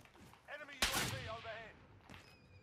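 Sniper fire in Call of Duty on Rebirth Island, with one sharp loud crack that rings out over a few seconds. Excited players talk over it.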